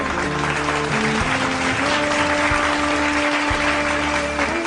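Dense, steady clapping from an audience at a Human Rights Day program, filling the room for several seconds with a constant hum underneath.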